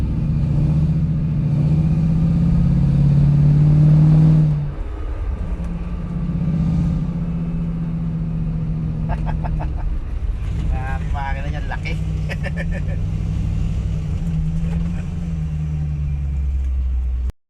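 A 1978 Ford Mustang engine runs with a steady low rumble, louder at first and then settling into an even idle drone, while people talk nearby over it.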